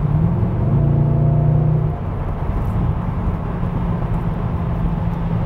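Deep, throaty engine of a 2010 Mercedes-Benz E63 AMG in Sport Plus mode, heard from the cabin as a loud steady rumble whose low tone drops about two seconds in, then settles into a grittier drone.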